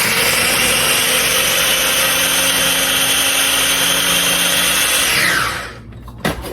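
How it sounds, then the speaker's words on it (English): A food processor pulses jalapeno to a fine mince with a loud, steady whirring motor that runs for about five seconds, then winds down and stops, leaving a brief knock. "So we're going to pulse this too, because we want this finely minced."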